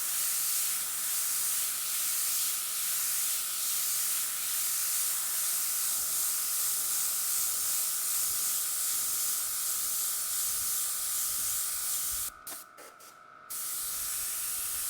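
Aerosol spray paint hissing steadily over adhesive-masked artwork, a continuous loud broadband spray held for about twelve seconds, then a few quick sputtering bursts and a short pause before spraying resumes.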